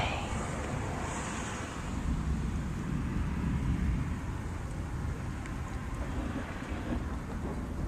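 Severe thunderstorm with a cold front moving through, a dense wash of wind and heavy rain with low rumbling, steady and enveloping, with wind buffeting the microphone.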